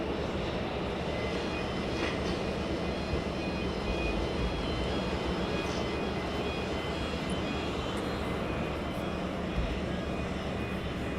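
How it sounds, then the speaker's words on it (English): A West Atlantic cargo jet pushing back at East Midlands Airport, heard as a steady, loud broadband engine roar with a low rumble that holds for the whole stretch, with no voices. "West Atlantic pushing back, going off to Edinburgh."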